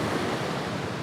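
Wind and surf on Curl Curl Beach: a steady broadband roar of breaking waves and gusting wind buffeting the microphone, loud and continuous, with no voices.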